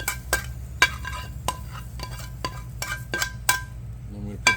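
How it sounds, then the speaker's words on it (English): Sautéed mushrooms and onions are scraped from a pan onto a plate, with sharp metallic clinks and taps of a utensil against cookware over a low sizzle, close and irregular. "Put them on a plate."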